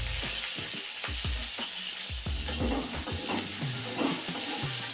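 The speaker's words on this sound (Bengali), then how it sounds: "এরপরে তেলের উপরে দিয়ে দিলাম পেঁয়াজগুলো, রসুনগুলো আমি দিয়ে দিলাম।" Chopped onions and garlic hit hot oil for a thin chicken curry, giving a continuous close hissing sizzle with repeated low thumps and clatters from the pan, no talking.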